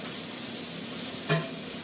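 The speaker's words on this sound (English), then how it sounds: "I'm actually going to put this now on the pan because it's hot enough. So just my fat and onions." Onions frying in hot fat in a pan give a soft, even sizzle, with one brief utensil knock near the end.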